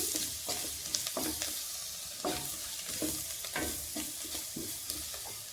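A puri saagu mixture being stirred in a pan, a soft continuous sizzle under repeated scraping and knocking strokes of a spoon, close by and fairly quiet, with no voices.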